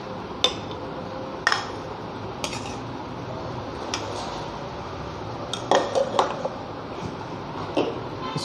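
Hydrogen peroxide tile cleaner being stirred in a container, with scattered faint clinks and taps of a utensil against the vessel over a quiet background.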